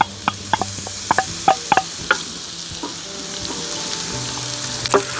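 Onion and coarsely chopped young garlic hit hot oil in a pan of nearly done potatoes for hunter-style potatoes. A bright sizzle rises under quick metallic taps and clinks of stirring that thin out as the frying settles into a steady hiss.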